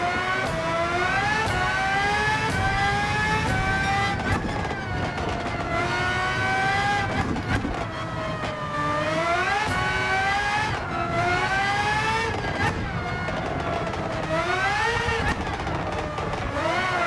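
A race car accelerating in Gran Turismo 7 on the Highway 1 circuit, its engine whining loudly and steadily through rising pitch sweeps with repeated upshifts, continuous and close with no talk over it.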